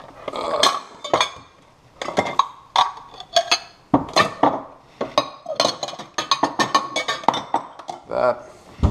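Ceramic bowls and dishes clink and clatter in a kitchen as a bowl is taken out while making ramen, a busy run of close, sharp knocks and rattles, with someone talking over it.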